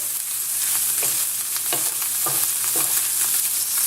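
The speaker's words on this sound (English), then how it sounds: "So we fry it up until it's a little bit brown" Steady close-up sizzling of food frying in a pan, with occasional soft scrapes and clinks of stirring.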